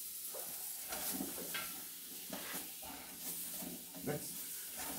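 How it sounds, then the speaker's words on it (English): Ham sizzles and steams in a pan greased with lard, a soft steady frying hiss broken by scraping stirs, with voices talking faintly over it. "Oh, it's sizzling already."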